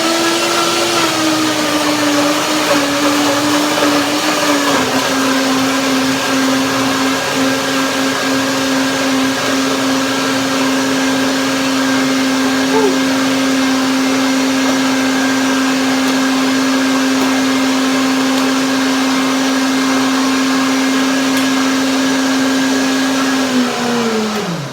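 A kitchen blender blending walnuts, bananas and lemon for a pineapple pie, a loud steady whir that holds one pitch for about twenty-five seconds with no talk.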